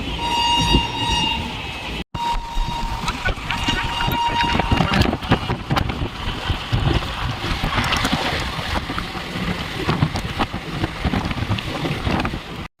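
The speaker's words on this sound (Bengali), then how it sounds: "এখন ট্রেন চললো জঙ্গিপুরের জন্য" A train leaving Sealdah station for Jangipur gives a steady, busy rumble of wheels and carriages that runs without a break, with a brief tonal note near the start.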